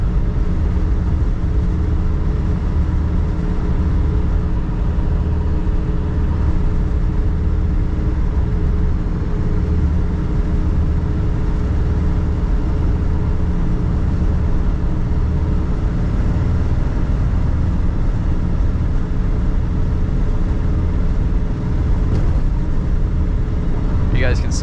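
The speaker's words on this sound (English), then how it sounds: "I was trying to be quiet so you can hear the shifts, hear how the car sounds" A 1950 Ford coupe drives along with a steady engine rumble and road drone throughout, heard from inside the car at a constant, fairly loud level with no talking.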